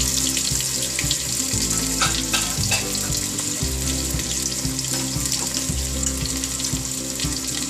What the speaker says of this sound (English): here is my oil heated up. Here goes onion.